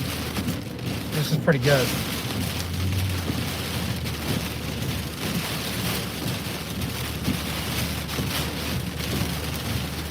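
Heavy thunderstorm rain pounds a car from outside, a loud, steady wash of downpour on the roof and windshield that lasts throughout, with a brief voice early on.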